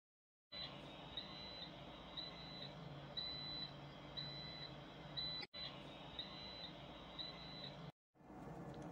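A UPS fault alarm on an AMS alarm monitoring system in a control room, flagging an ETO-brand UPS with a battery open cell voltage fault, beeps steadily and repeatedly over a constant electrical hum, cutting out briefly twice.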